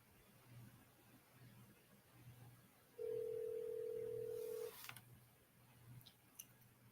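A telephone being dialed to call back: a single steady tone lasting under two seconds rises out of a faint hum, followed by a brief click, quiet and alone without talk.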